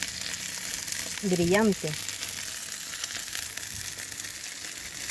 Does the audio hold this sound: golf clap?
no